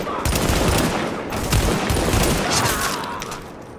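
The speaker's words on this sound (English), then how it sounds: "sniper shooting" Gunfire rattles in The Division, a close, loud burst of rapid repeated shots with sharp cracks, sustained over several seconds and fading slightly at the end, alone without talk.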